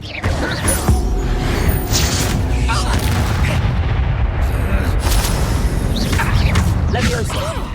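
An Incendio fire spell cast in Hogwarts Legacy bursts with booming, crackling blasts that come in repeated loud waves over a rumbling background, with a voice speaking intermittently over it.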